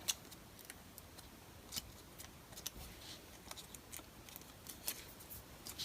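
Small scissors snipping an altered playing card into a heart shape, a series of faint, crisp close-up clicks spaced irregularly over quiet background.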